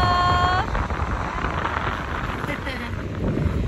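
Strong wind sweeps across Kamogawa Beach, a loud, steady roar buffeting the microphone, with a brief tonal tone fading at the start.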